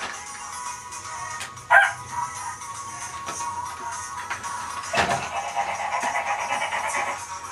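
Dogs bark in an office building, a couple of sharp yips and barks, one louder burst early and another later, moderately near against a quiet hum.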